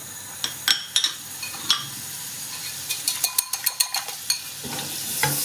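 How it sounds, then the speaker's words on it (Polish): Butter sizzles in a frying pan ready for an omelette, a steady hiss with scattered clinks and scrapes from a utensil spreading it across the pan. "I musimy sobie usmażyć omlet. Dodaję sobie odrobinę masła."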